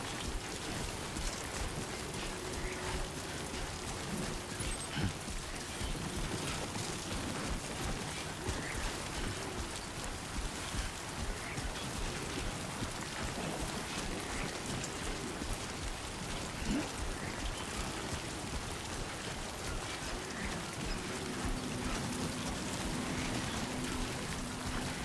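Timefall rain in Death Stranding 2 falls as a steady, dense hiss of raindrops spattering on surfaces, constant throughout with faint low tones beneath and no voices.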